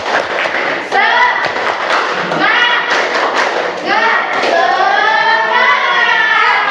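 A class of children claps out a rhythmic cheer together in a classroom, the claps landing in quick patterned bursts while young voices chant loudly alongside.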